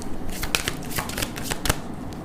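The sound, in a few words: drawing and shuffling tarot cards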